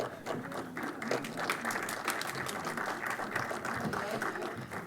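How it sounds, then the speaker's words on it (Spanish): Audience applause at an award ceremony, continuous dense clapping close by for the whole stretch, with murmured voices mixed underneath. "Un aplauso, por favor, para él."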